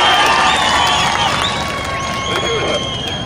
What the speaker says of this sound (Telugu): గట్టిగా చప్పట్లు కొట్టి మీ యొక్క ఆమోదం తెలియజేయండి